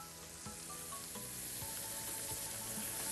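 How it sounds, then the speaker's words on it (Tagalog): Water poured into a pot of browned pork humba, hissing and sizzling as it hits the hot pan, a steady close rush with faint clinks, no talking. "dalagyan na po natin ng tubig"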